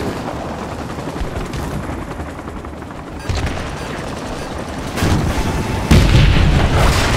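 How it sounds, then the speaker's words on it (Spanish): Loud explosions as a helicopter is shot down in Call of Duty: Modern Warfare 2 Remastered boom over a constant roar of gunfire, with heavy blasts hitting in quick succession near the end. "Y así fue como el helicóptero cayó"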